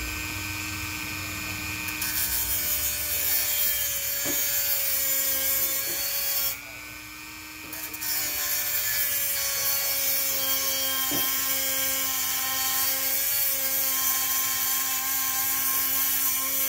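A Dremel rotary tool cuts into a 360mm x 64mm Thermaltake radiator, giving a loud, sustained high-pitched whine with grinding rasp that dips briefly midway before resuming steadily.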